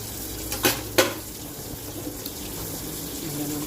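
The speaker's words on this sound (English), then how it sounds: "Just washing up" Dishes being washed up at a home kitchen sink with the tap running, a steady low water wash with a couple of sharp clinks of crockery early on, fairly close and moderately quiet.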